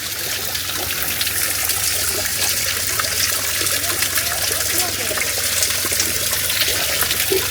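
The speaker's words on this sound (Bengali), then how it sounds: "এই একটা ন্যাচারাল ফাউন্টেন, তো জলটা খেয়ে দেখি এখানে কেমন" Water pours continuously from a natural drinking fountain in Switzerland, making a steady, close, splashing trickle that holds constant throughout, with some voice faintly mixed in.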